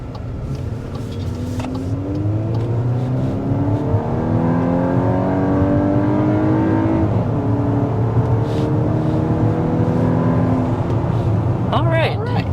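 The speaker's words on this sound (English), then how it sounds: "So that's up to 60 miles per hour. Up a hill, obviously, as you can see." A 2024 Toyota Grand Highlander hybrid with front electric motor and rear e-axle accelerates uphill to 60 mph, its engine drone rising steadily in pitch through a long pull, heard from inside under occasional talk.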